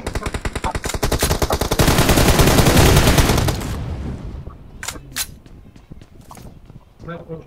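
Rapid automatic gunfire in the battle royale game BGMI during a scrim match, loud and dense bursts for several seconds, then thinning to scattered single shots and footsteps, with players talking over it.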